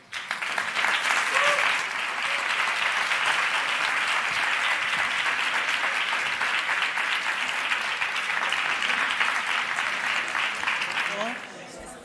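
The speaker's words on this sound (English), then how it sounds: "please give them a round of applause" Sustained applause from a large conference audience, steady and loud for about eleven seconds, then tapering off at the end.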